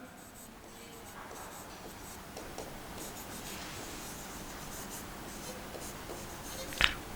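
Chalk or marker scratches across a classroom board during a chemistry lesson on coordination compounds, with continuous close strokes and taps and one sharp knock near the end.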